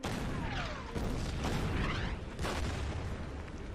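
Artillery fire in the World War II strategy game Order of Battle, a few dense booming blasts with rushing swoosh tails over constant loud battle noise, no speech.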